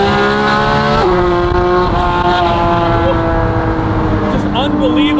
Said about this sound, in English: Nothing better than a GT4 RS at 7:40 in the morning. Listen to this, I hit it one time.